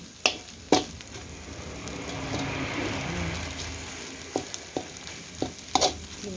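Pounded shallots and garlic stir-fried in oil for a mackerel chili paste, a steady close sizzle and frying crackle with sharp scrapes and clacks of a utensil stirring the pan at irregular intervals, no talking.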